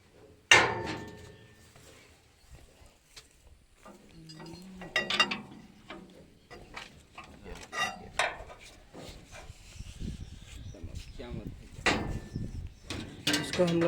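Pipe wrench tightening the finger rod bolts on a thresher: sparse metallic clanks, knocks and scrapes at irregular intervals, with voices talking close by between the hits.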